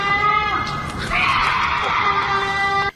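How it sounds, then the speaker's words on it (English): A cougar's mating call heard in the woods: a harsh, wavering shriek much like a woman screaming, sustained for about three seconds, loud and raw with a rough, strained tone, then stopping abruptly. "This horrifying sound, according to its uploader, is a cougar mating call"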